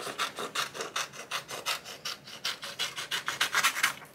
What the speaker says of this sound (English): I'm just trimming off the excess white here, so we can go ahead and get it wrapped